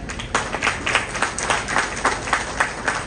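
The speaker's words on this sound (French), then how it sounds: "Je vous demande de les applaudir." Audience at a ministry of foreign affairs inauguration ceremony applauds for officials and staff, a dense, steady wash of many hands clapping at moderate distance with no speech over it.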